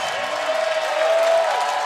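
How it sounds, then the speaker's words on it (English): Large crowd at an NCAA Division III women's basketball Sweet Sixteen game cheering during team introductions, a loud broad roar with applause filling the arena while an announcer's voice rings over it. "Fans of both teams very loud for the introductions"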